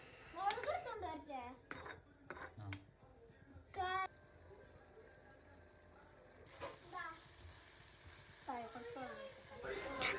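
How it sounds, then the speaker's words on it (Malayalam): Pav bhaji masala is stirred in a pan: a spoon clatters and scrapes against the metal in short bursts while a soft sizzle continues underneath, and a voice talks in between. "അതിനുശേഷം ഉണ്ടാക്കിയ മസാല അതിലേക്ക് ചേർക്കുക. നന്നായി ഇളക്കിയെടുക്കുക."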